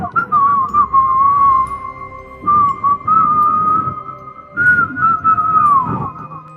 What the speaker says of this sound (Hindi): ये सीटी की आवाज़ सुनते ही रोहन घबरा गया